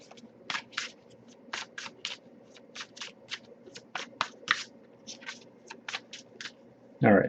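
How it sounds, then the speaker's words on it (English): Tarot cards being shuffled by hand, a run of crisp, rapid riffling bursts in an irregular rhythm, close and fairly quiet, ending with a louder rustle. "but I'll give it a few more shuffles."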